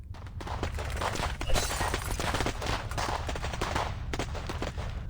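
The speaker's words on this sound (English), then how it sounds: "There is a short, intense exchange of fire." Gunfire exchange in the video game Reverse 1999, dense rapid shots and bursts overlapping like automatic fire, loud and continuous for several seconds with no talking.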